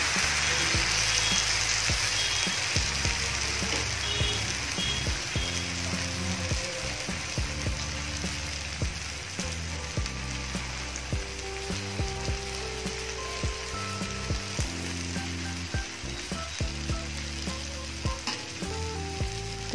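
Radish batter cooked without oil sizzles steadily in a hot pan as it is spread thin, a loud continuous hiss laced with rapid scraping clicks, with no talking.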